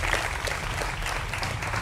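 An audience applauds at a televised political debate panel, a steady dense patter of many hands clapping throughout, moderately loud and without talk over it.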